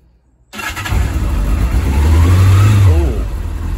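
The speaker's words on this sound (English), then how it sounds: "So let's start her up." A Kawasaki Zephyr ZR750C1 motorcycle engine cranks and fires up close by, then settles into a steady idle with a brief rev.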